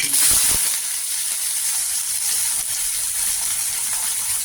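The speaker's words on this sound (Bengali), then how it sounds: "পেঁয়াজগুলো ভালো করে লাল করে ভাজিয়ে যায়" Chopped onions fry in a pan with panch phoron spices, a steady, bright sizzling hiss, close and even, after a brief louder burst at the start.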